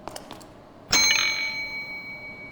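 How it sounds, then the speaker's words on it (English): A standard hotel service bell in a psychological horror game gives a single bright ding that rings on and slowly fades, preceded by a few faint soft taps. "A Standard Hotel bell used to summon staff."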